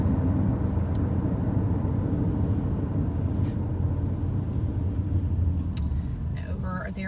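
A car drives along a road between Summerfield and Ocala, with a steady low rumble of engine and tyre noise running unbroken and fairly loud from start to finish.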